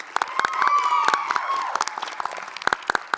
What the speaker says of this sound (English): A round of applause for NC State.